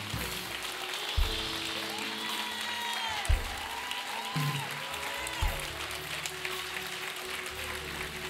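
A church congregation claps together in a steady, sustained wash of applause. Organ or keyboard chords sustain beneath it, and a few louder claps and thumps break through.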